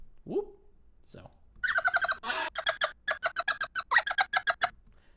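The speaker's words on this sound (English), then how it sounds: "So I grabbed some of his chirping sounds to put in here because I love him." A small red pet bird chirps and squawks in quick bursts, with a rising call, then rapid repeated trills and chatter, close and fairly soft, edited into a soundtrack.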